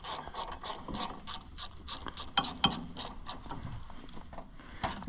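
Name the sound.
ratchet loosening a clamp on Allis Chalmers 175 tractor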